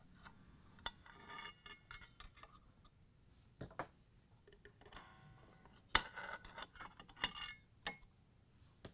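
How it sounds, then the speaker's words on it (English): Needle nose pliers pry the motor mount springs off a washer's motor carriage, giving scattered faint metallic clicks and ticks with one sharper snap midway, close and quiet without talk. "Using the needle nose pliers, remove both springs"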